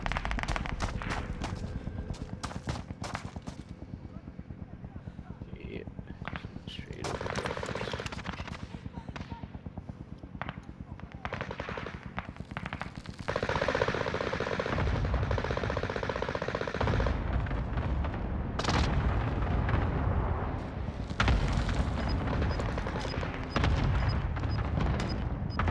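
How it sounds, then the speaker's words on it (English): Gunfire rattles through an online multiplayer shooter match, with bursts of rapid shots and single cracks, some close and loud, others distant, under talk from players and game voice lines. "I'm hearing shooting."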